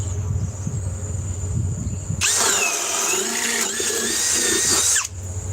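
A power drill in drill mode with a new bit whines loudly at a high steady pitch for about three seconds, starting abruptly and cutting off, after a stretch of low background rumble.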